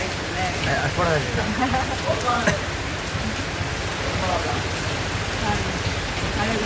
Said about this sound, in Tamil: கொஞ்சம் கொஞ்சமாக பெய்யுது மழை நிறைய பெய்யுது மழை